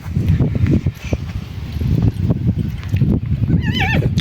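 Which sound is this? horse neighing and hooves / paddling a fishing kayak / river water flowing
horse neighing and hooves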